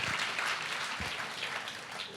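Brief burst of audience applause at a church service welcoming the new year, dense clapping across a large room, fairly faint.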